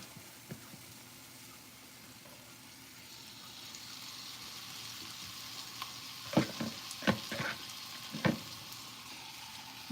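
Bones frying in oil for a sauce-focused dish, a steady low sizzle with several sharp louder crackles and pops bursting out toward the end, close and without talk.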